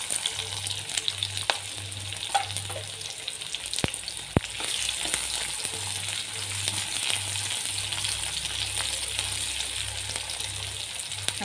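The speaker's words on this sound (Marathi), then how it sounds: "साधारण 1 ते 2 मिनिट आपण परतून घेऊया." Chopped onion sizzles in hot oil in a pan while being stirred, a steady frying crackle with occasional scrapes and clicks of the spoon, close and alone.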